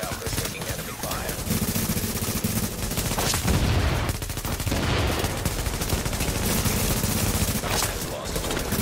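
Dense, rapid gunfire fills a firefight in The Division video game, with near-continuous bursts and volleys and a few brief lulls.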